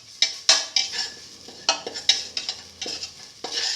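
Garlic goes into a pan for a split pigeon pea and fenugreek dish and is stirred, a spoon clinking and scraping against the pan in quick, uneven strokes over a faint sizzle.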